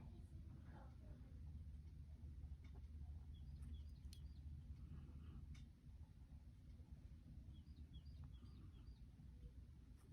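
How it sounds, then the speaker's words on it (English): Faint, distant bird chirps come in short scattered bursts over a steady low outdoor rumble. "I am hearing birdies outside."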